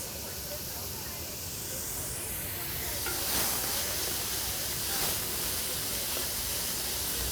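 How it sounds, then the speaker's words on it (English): Carrots and onions cooking in a soup pot give a steady, broadband hiss like steam or a gentle sizzle, fairly even and continuous throughout, with a few faint clicks and no talking. "we're gonna let the carrots and the onions cook for about"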